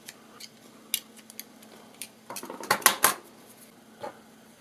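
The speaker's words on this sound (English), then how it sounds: "I'll just quickly clean that up with a knife." A utility knife trimming the edges of a 3D printed plastic part, with scattered light scraping ticks, then a quick burst of sharper scraping cuts and a final click, close and quiet with no talking.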